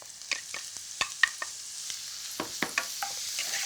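Grated zucchini hitting hot oil in a pan and being stirred, a steady close sizzle broken by scattered crackles and pops, with no voices.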